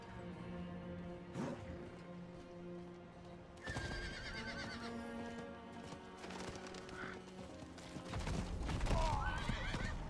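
In Diablo 4, a horse whinnies several times amid clip-clopping hooves and game ambience, with some voices talking in the background, moderately close and growing louder toward the end.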